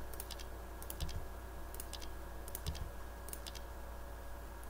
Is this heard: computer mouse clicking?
yes